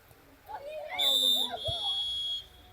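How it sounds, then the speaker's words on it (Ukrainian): Referee's whistle at a children's football match in a youth cup game, one shrill sustained blast of about a second and a half over a commentator talking, with faint crowd noise below. "трішки запізнено пролунав все-таки свисток"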